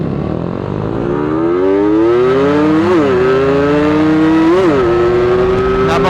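A Raider FI or RXT 135 motorcycle engine revs hard and alone, the pitch climbing steadily with two sharp blips on the throttle, a loud, close, buzzy drone throughout.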